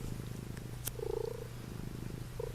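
A cat purrs close by in a continuous low, rhythmic rumble, with a short chirp-like sound and a tick partway through.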